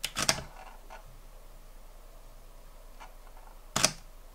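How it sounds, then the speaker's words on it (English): Sony Alpha 7 IV camera starting up: a sharp double mechanical click at the start, a few faint ticks, then another crisp click near the end, all close against quiet room hiss. "Let's start the camera."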